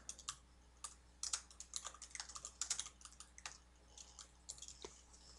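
A computer keyboard is typed on in quick, irregular bursts of soft clicky keystrokes while writing a comment in SolidWorks, quiet and close against a faint low hum, with no speech.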